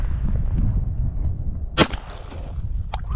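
A shotgun fires a single loud, sharp blast at a duck about 45 yards off during a California duck hunt, cutting through steady low wind and marsh rumble, with a fainter crack or echo following a second later.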